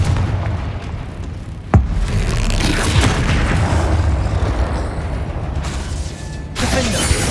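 A Confringo explosive spell in Hogwarts Legacy, one sharp blast cracking early and followed by rumbling, crackling combat noise that stays loud and close, with a second burst near the end.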